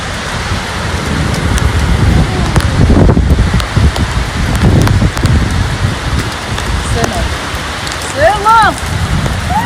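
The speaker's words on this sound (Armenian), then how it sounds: "Ոնց եմ սիրում ես վարար անձրև" Heavy rain pours steadily and close, a dense continuous hiss with surges in intensity, joined late by a few bird calls.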